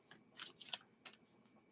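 Cards riffled and shuffled by hand in a quiet room, a few soft crisp bursts of papery flutter with short pauses between, close and fairly faint.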